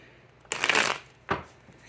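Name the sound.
shuffling tarot cards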